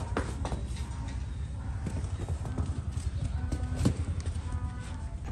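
A donkey's oversized hooves are worked on with a long nail knife, giving a run of close, dull knocks and clops at an uneven pace over a low steady background.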